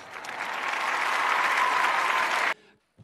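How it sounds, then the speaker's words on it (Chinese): Audience applause for a 19-year-old Tibetan flyweight fighter at a Wulin cage fight event, a dense sustained roar of clapping that ends abruptly, with no talk over it. "我们掌声欢迎来自藏族的小伙子泽如"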